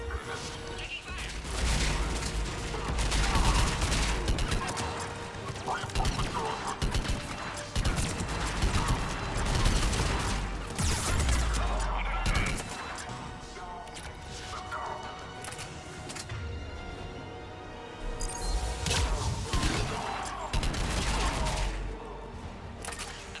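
Heavy combat gunfire in the video game Mass Effect 3, a dense, continuous barrage of shots and crashing impacts with bursts swelling and easing throughout.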